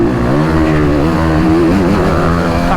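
A motocross bike opens the throttle on a dirt track at Trofarello, Italy. The engine roars loud and steady throughout with a rising, revving drone and no talk.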